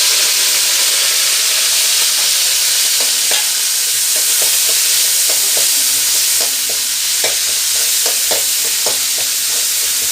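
Shallots, green chillies and curry leaves fry in hot oil for a fish lunch, giving a loud, continuous close-up sizzle and hiss with occasional light clicks of a ladle against the pan.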